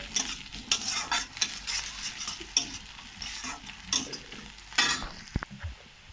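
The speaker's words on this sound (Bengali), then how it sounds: "এই যে পেঁয়াজটা হালকা আদা ভাজা হয়ে এসেছে, এখানে আমি একটু হলুদ গুঁড়ো দিয়ে দিলাম।" Sliced onion and ginger fry with turmeric powder in a pan, a steady close sizzle broken by repeated scraping strokes of a spatula stirring, plus a couple of sharp metallic clinks near the end, with no talking.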